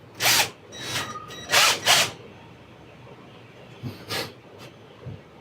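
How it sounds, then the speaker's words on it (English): A power drill drives hinge screws into a wooden cabinet in several short, loud whirring bursts: two close pairs early on, then quieter bursts near the end after a pause, with no talking. "So I'm going to get these started."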